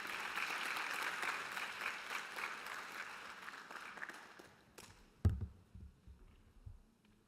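A conference audience applauds a speaker at a world harmony panel, with a sustained round of clapping that fades out, followed by a few faint knocks and rustles.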